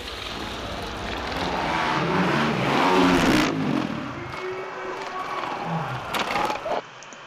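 A motorcycle engine roars loudly and steadily on a difficult hill climb, building to a peak before easing off, with brief crackling bursts near the end.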